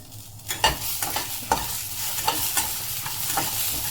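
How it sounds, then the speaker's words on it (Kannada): Guntur chillies, tamarind and ginger fry in a pan with a soft sizzle, broken by a series of sharp scraping and clanking stirs from a spatula at irregular intervals. "ಇದಿಷ್ಟು ಚೆನ್ನಾಗಿ ಫ್ರೈ ಮಾಡ್ಕೊಳ್ಳೋಣ"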